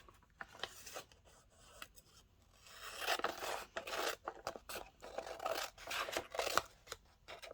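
Scissors cut a paper sewing pattern from a magazine in a series of close, crisp snipping strokes that grow denser halfway through, with no voices.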